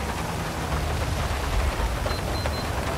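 Steady heavy rain in GTA 5, a dense continuous hiss of downpour with low rumbling underneath, even and unbroken throughout.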